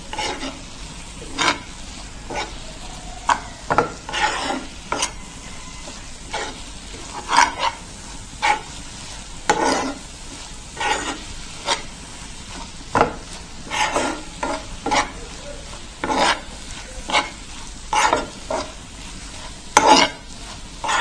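Egg being stirred and fried in a pan for a Bangladeshi egg and mashed chili dish, with repeated scraping and stirring strokes over a steady low sizzle, close up and with no talking.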